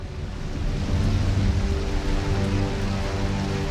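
Steady rainfall, a dense continuous hiss of drops that swells slightly after the start and holds loud and even throughout.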